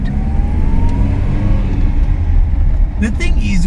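A classic Datsun car's engine pulls in first gear with a steady mid-pitched drone and rising whine, close and loud, a few short knocks near the end, and a voice talks over it.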